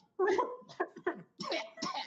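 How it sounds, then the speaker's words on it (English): A few short, harsh coughing bursts in quick succession, fairly close, with throaty vocal noises between them. "a coughing sound from the kobold"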